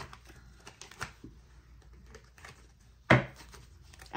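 A deck of tarot cards is handled and shuffled at close range, with soft scattered card flicks and taps followed by a sharp riffle burst and a final snap.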